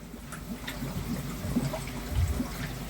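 Water trickling and flowing into a koi pond, a soft continuous low gurgle and splash at modest level with no talking.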